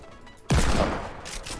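A sudden, loud burst of Fortnite gunfire crashes in after half a second of near quiet, then holds as a dense, crackling volley of shots that fades only slightly to the end.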